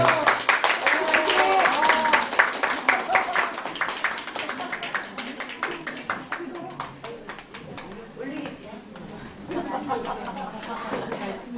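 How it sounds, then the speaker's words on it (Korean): An audience at a candidates' debate for a Seoul parents' association for people with disabilities claps loudly and then gradually thins out, with voices and chatter mixed in. "여러분들은 사진과 박수를 보내주시면 되겠습니다"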